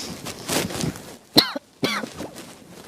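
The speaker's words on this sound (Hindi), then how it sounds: "होगी ना खांसी" A person gives a single sharp cough and then a short throat-clearing sound up close, with talking just before and after.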